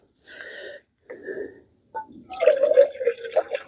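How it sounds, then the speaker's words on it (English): Water is poured into a pot to make coffee at an off-grid bushcraft dugout shelter campsite, a close, short gurgling pour with a resonant tone, preceded by a few brief squeaky, hollow knocks. "we just put a little bit of water in here for the coffee"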